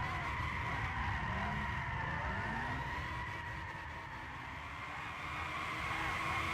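A video game sports car engine drones with shifting pitch as tires squeal and skid in long sliding sweeps, the whine rising and falling throughout.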